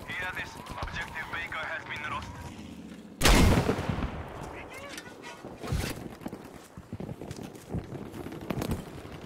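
Gunfire in the video game Battlefield 5, one loud sharp blast standing out mid-clip among scattered quieter shots and rattling, while a voice talks over the action.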